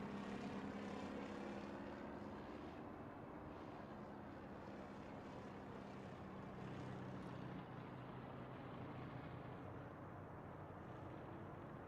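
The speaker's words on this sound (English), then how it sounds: "There's that airplane way over yonder." In a trucking simulator game, a distant airplane drones faintly and steadily over farmland for the whole stretch, a low continuous engine hum with no other sounds.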